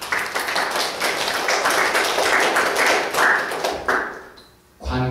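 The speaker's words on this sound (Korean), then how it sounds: "조장들을 위해 박수 한번 쳐줍시다" A church congregation claps for its group leaders, a dense, steady patter of many hands that dies away near the end before a short thump.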